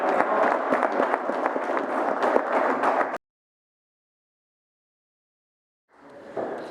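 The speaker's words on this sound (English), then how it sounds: "Round of applause." Audience applause at a conference session, dense steady clapping from a seated crowd for about three seconds, then a sudden cut to silence before clapping briefly resumes near the end.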